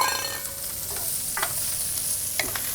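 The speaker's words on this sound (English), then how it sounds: "while this is cooking, we're going to add some of our aromatics. Simple, couple slices of garlic, some sliced white onion." Sliced garlic and white onion sizzle in a pan with a steady frying hiss, broken by a few stirring scrapes. No voices are heard.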